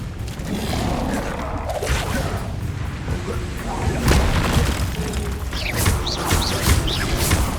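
The Protego shield spell in the wizarding game Hogwarts Legacy, heard as a shimmering, resonant shield hum mixed with clanks, creaks and booming combat impacts that swell louder partway through.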